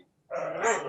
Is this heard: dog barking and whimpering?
yes